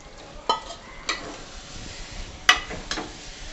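Marinated prawns going into an onion-tomato gravy for prawn biryani, a low simmering sizzle with several distinct knocks and scrapes of a spoon against the pan.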